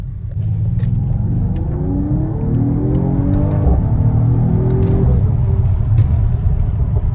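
A Mercedes-AMG GT 4-door, not the V8 version, accelerates hard, its engine note rising through rumbling revs with a shift and continued pull, close and loud with no talk.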